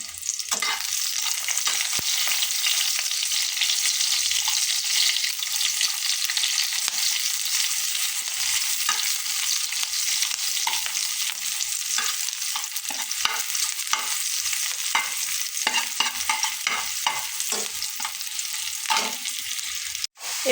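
Chopped onions frying in a pan give a steady, bright sizzle with soft stirring scrapes, close and continuous, with no talking.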